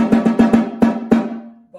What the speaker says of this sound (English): if I take it off, and so the snares aren't hitting the bottom, it just sounds like this